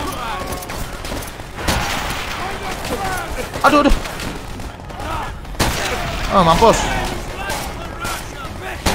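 Rapid gunfire bursts and explosions from a Call of Duty: World at War battle rattle loud and continuous, with heavier volleys near the start and middle, while players talk excitedly over the shooting.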